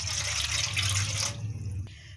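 Half a glass of water pours into a wide pan, a steady close splashing rush for just over a second that cuts off into near silence with one faint drip.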